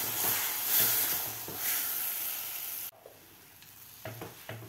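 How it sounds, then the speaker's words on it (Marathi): A mango juice mixture is stirred in a pan for mango poli. A steady sizzling hiss runs under soft scraping strokes, then cuts to quieter, intermittent stirring scrapes near the end. "व्यवस्थित आपल्याला हलवून घ्यायचं आहे"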